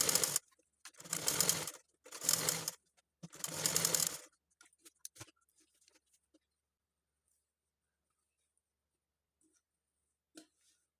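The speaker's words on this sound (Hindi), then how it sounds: "इस पे भी हम डबल सिलाई करेंगे जैसे हमने पहले करी थी।" Sewing machine running in three bursts of stitching, double-stitching fabric for a pair of baby shorts, loud and close, followed by faint handling clicks and quiet.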